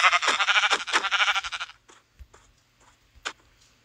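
Sheep in the Minecraft video game bleat in a rapid, wavering series of loud, close cries, then fall to faint scattered game sounds.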